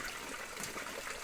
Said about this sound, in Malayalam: ഇവിടെ ഒരു വെള്ളച്ചാട്ടം